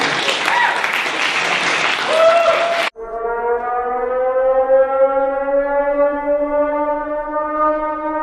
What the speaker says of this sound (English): You can round of applause if you enjoyed that segment